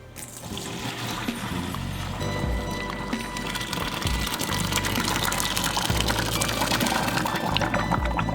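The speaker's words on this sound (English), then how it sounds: "Then you're just going to pour it into a strainer." Cooked pasta for mac and cheese is poured from a pot into a metal strainer, giving a loud, continuous rush and splash of water draining through the metal, with faint clanks, steady for several seconds.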